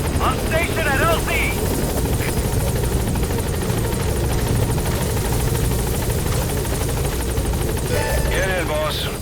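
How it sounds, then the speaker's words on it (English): A support helicopter arrives at a landing zone in Metal Gear Solid V, its loud, steady rotor thrum filling the scene throughout, with brief radio voices over it near the start and end. "Support helicopter has arrived."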